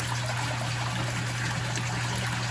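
Water from a koi pond overflow trickles steadily and continuously, a close, even dribble with a low hum running beneath it, no voices.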